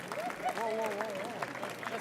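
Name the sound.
audience applause at reception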